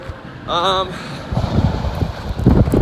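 Wind gusts buffet the microphone in uneven, rumbling bursts on a trail, growing stronger toward the end, with a brief voice-like tone early on.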